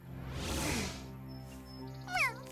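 A cartoon cat meows once near the end, a short rising and falling cry heard over a soft, steady background.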